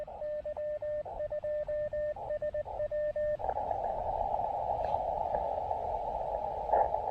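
Ham radio receiver during a POTA park activation at Boisé des Compagnons-de-Cartier in Québec City, tuned to 30 meters, giving off a motorboat-like noise: a loud, choppy pulsing tone that turns into a steady, continuous buzzing drone, with no talk.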